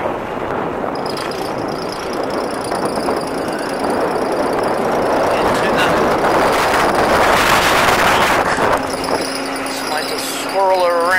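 A John Deere 2305 compact tractor engine runs steadily in low gear, a continuous broadband rumble that stays loud and close throughout, with a brief shift in tone near the end.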